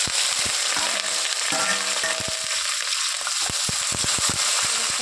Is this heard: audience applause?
no